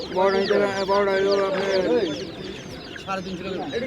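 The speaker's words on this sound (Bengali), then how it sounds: "এটা কি মুরগির বাচ্চা সোনালি" Sonali chicken chicks at a pigeon market peep in rapid, high, overlapping chirps, loud and close, with market voices talking underneath.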